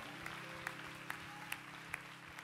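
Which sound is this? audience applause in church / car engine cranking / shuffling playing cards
audience applause in church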